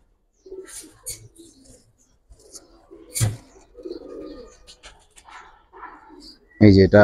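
Soft, low cooing from a cream-eyed Saharanpuri pigeon comes in short bursts while someone talks close by, with a sharp loud sound near the end.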